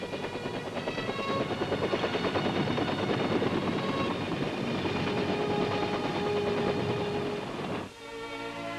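A military helicopter flies overhead, its rotor and engine a loud continuous rhythmic chop and drone that holds steady, then drops abruptly near the end before resuming more faintly.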